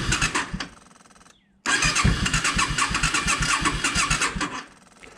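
A Yamaha V Star 650 motorcycle engine, carburetors just primed with fuel, cranks briefly, drops out for a moment, then fires and runs with a loud, close, rapid putter before fading.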